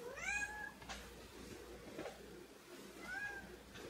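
A house cat meows at a door, two drawn-out, rising-falling calls spaced about three seconds apart, fairly close and clear over a quiet room with faint background noise.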